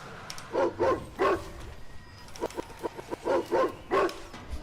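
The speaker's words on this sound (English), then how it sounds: "Dude, I got a bark sound effect, boys." Dog barking sound effect played over a gaming stream: two quick bursts of loud, close barks, then a run of shorter yips and another pair of barks, spaced in uneven clusters with no talk over them.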